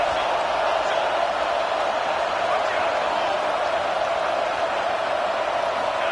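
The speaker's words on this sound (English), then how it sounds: "The crowd is roaring, trying to help this defense on 4th down." A football stadium crowd roars in a steady, dense wall of noise on a fourth-down defensive stand in a Michigan game, heard continuously with no letup.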